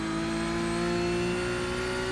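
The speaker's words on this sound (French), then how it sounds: "Je remets un coup de gaz." A racing car engine revs with a throttle blip on the Suzuka circuit in a driving game, a steady buzzing engine drone with strong harmonic whine holding at a constant pitch, loud and close, with no talking.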